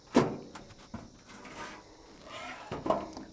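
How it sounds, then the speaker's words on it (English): Plastic wind guards slid and clicked into place on a caravan annexe, a few short scraping knocks and slides at close range with quiet gaps between them. "Lifting up, sliding our wind guards out into place."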